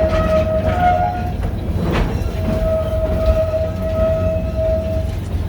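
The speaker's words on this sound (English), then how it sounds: "As the train comes into the depot" A Wild West themed train arrives at a depot during Jeeptoberfest, with a loud continuous rumble of railcars and a long, steady horn or whistle tone that starts, pauses briefly, and then sounds again.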